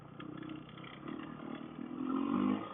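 A Kawasaki KLX450R dirt bike engine revs on a night trail near Lake Jocassee, a steady mid-pitched drone that climbs and swells louder toward the end as the rider accelerates.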